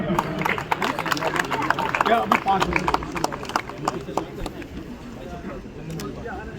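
Applause and clapping ring out from a crowd at a political event as a minister is welcomed with a turban, dense and steady at first, then thinning somewhat, mixed with crowd murmur.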